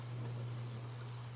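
Warm water pours from a kettle onto rice noodles as a faint, steady trickling stream under a constant low hum.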